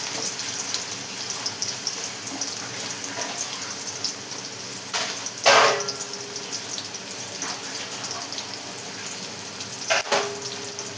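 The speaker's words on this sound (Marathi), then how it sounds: "आणि बघा त्याला आता आपण कांदा टाकून घेऊ लसूणच्या नंतर." Onion and garlic frying with mustard seeds in a pan, a steady soft sizzle running throughout, with two brief louder bursts where ingredients hit the hot oil.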